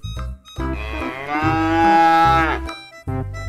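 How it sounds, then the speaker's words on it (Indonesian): A white Australian cow moos loudly and close by, one long drawn-out low call in the middle, framed by shorter grunting lows before and after. "Widi Widi Widi ada ibu sapi yang tadi teman-teman Sapi Australia sama kayak anaknya sangat putih"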